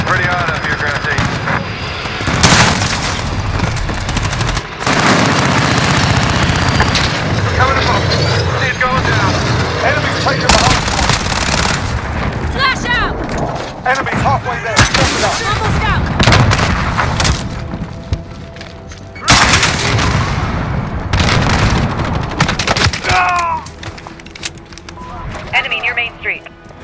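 Gunfire and booming explosions in Call of Duty: Modern Warfare multiplayer on PS5, loud repeated bursts and heavy blasts over several seconds, with voices talking over the combat.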